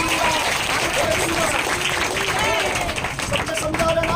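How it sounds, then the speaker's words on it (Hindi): An audience clapping at a church testimony, a dense steady patter of many hands from a crowd, fairly loud and continuous, with voices calling out among the applause. "ताली बजाए हालेलुया"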